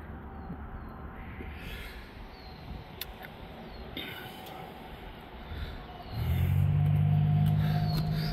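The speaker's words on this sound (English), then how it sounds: "high output Turbo Max 4-cylinder engine." A 2024 GMC Canyon Denali's high-output turbocharged four-cylinder engine running outdoors, quiet at first under faint ambient noise, then a loud, steady droning rev in the last couple of seconds.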